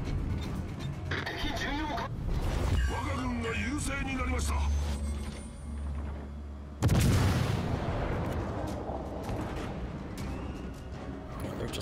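Warship main battery guns fire in World of Warships Legends, booming blasts among battle noise, with a big loud salvo midway and a rumbling decay, under someone talking.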